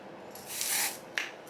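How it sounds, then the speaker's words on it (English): Tinted lace spray in a light warm brown shade misted onto a wig during an install, giving a close, soft hiss that swells over about half a second, followed by a second short burst. "I'm going to be spraying my even tinted lace spray in the shade light warm brown"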